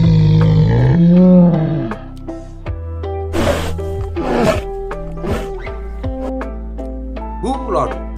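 A bear roars in several loud, close bursts, each sliding in pitch, with breathy noise between them.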